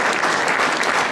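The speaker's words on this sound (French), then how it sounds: "Applaudissements, mesdames et messieurs, pour ce prix de dégustation 2013." Audience applause for a pastry tasting prize at a French patisserie competition, dense and continuous clapping from a sizeable crowd throughout, fairly loud and close.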